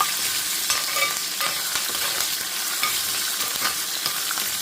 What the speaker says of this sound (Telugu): ఇంగువ కరివేపాకు కొంచెం కరివేపాకు సో ఇది కొంచెం ఎర్రగా వేగాలన్నమాట మంచిగా వేగాలి